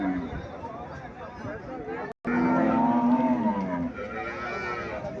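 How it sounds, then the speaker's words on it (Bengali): A Haryana-breed dairy cow moos loudly and nearby in a drawn-out, low bellow in the middle of the stretch, with people talking and crowd murmur around it. "এখানে একটা গাভী দেখা যাচ্ছে।"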